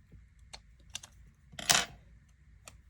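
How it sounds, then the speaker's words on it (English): Scissors cutting through a sticker sheet at a desk: a few light clicks and taps, then one louder, crisp snip, followed by quiet handling sounds. "I'm going to cut it about here."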